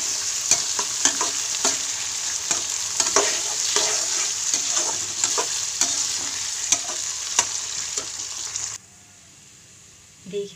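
Chana dal for halwa fries and is stirred in a pan, with a loud continuous sizzle and regular scraping strokes for about nine seconds before the sound drops away abruptly to near quiet.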